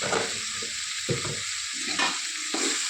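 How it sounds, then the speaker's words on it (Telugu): Sirraku greens fry in a pan with a steady, close sizzle, while a spoon repeatedly scrapes and stirs through them in uneven strokes, with no one speaking. "యాడ్ చేసుకొని బాగా కలిపిన తర్వాత 2 minutes వేగనివ్వాలి."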